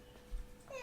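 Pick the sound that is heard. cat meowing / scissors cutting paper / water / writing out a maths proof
cat meowing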